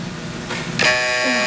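A game show buzzer on a 1970s TV quiz sounds a sudden loud, sustained electric buzz close up, cutting in over faint studio background noise.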